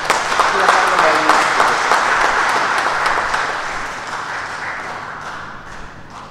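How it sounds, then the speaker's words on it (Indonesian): A church congregation at a Sunday worship service in Semarang applauds, a burst of clapping that peaks early and then slowly dies away, with some voices underneath. "Kita terima dengan tepuk tangan."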